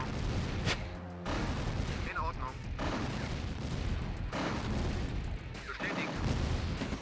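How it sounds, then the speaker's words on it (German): Flash tanks fire in the real-time strategy game Command & Conquer: Counterstrike. Repeated sharp bursts and booms crackle over a dense, continuous wash of battle noise, with a voice speaking briefly underneath. "Allein wie sich diese Schüsse anhören von diesen Flashpanzern."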